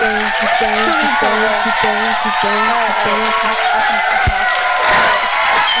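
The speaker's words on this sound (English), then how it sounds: "one more round of applause for Fruit Cube, everybody" A talk show studio audience cheers, whoops and shouts in a sustained, loud crowd roar, with voices calling out over the noise.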